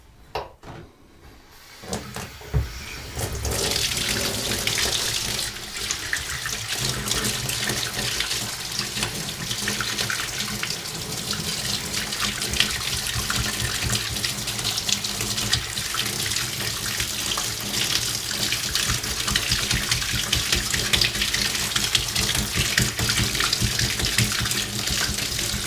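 Warm water runs steadily from a tap into a sink while a paintbrush is rinsed clean of water-based paint, a close, continuous splashing rush that keeps going throughout.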